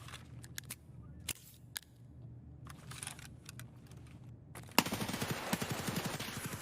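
Gunfire in Escape From Tarkov: scattered sharp single cracks at a distance, then a denser, louder close burst of rapid shots near the end.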